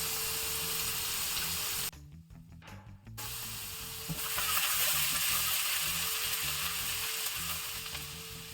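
Finely chopped ginger hits a hot pan with garlic, giving a loud, steady sizzle that cuts out briefly, then returns with stirring and scraping.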